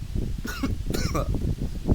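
Two short, harsh coughs from a man with a sore throat in quick succession, close to the microphone, over steady low background noise.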